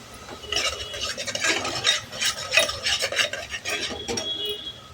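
Ginger-garlic masala paste is sautéed in oil in a pan, with a spoon scraping and stirring in continuous close strokes and a faint sizzle underneath.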